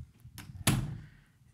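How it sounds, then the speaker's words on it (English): An indoor door swings shut with a single solid thud, close and fairly loud, after a faint earlier bump, with quiet room tone and no talking. "closing this door"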